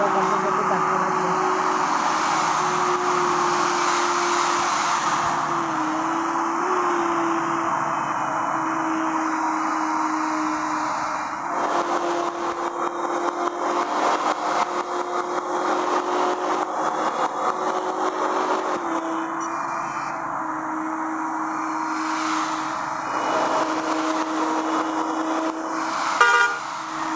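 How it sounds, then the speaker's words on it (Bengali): An Ena intercity bus drives along the Dhaka to Khulna highway, its engine droning steadily from inside the cabin while the horn sounds several times, with short blasts recurring through the ride. "বন্ধুরা, ইঞ্জিনের সাউন্ডটা"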